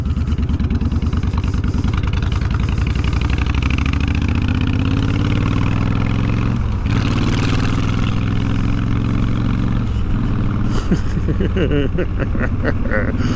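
A motorcycle engine runs loud and close, a steady throbbing idle with occasional revs, while a rider speaks over it.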